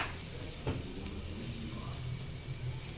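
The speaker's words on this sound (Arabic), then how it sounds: "عشان انا مش لاقي طاسه ولا طبق المونيا احمر فيه، فقلت احمر في الطبق ده" Poultry fries in ghee in a plate, giving a steady, close crackling sizzle with small pops and occasional stirring or shifting sounds throughout.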